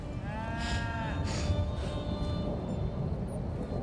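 Low cattle moos and bull lowing from a herd in the Elder Scrolls Online video game, a drawn-out bellow at the start over a steady outdoor ambient bed, with no talking.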